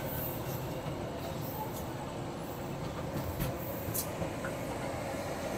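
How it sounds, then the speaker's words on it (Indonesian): Train rumbling past near a railway workshop in Semarang, Indonesia, with a constant broad rolling roar and faint clicks and squeals of the wheels throughout. "Itu ada kereta api kan"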